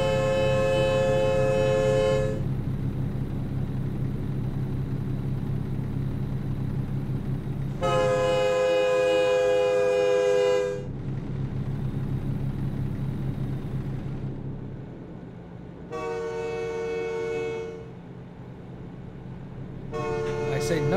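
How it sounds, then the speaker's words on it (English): A passing train in American Truck Simulator sounds its horn in repeated long, loud, harmonic blasts separated by pauses, over a steady engine and rumble drone, with someone talking at times. "Really gotta work on that train horn volume problem."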